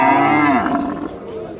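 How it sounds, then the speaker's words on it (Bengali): Scrawny cattle at a rural livestock market give a long, loud moo that slides downward, heard up close with no talk over it. "এই বাজার থেকে এই হাড্ডি সার গরুগুলো সংগ্রহ করতে পারেন"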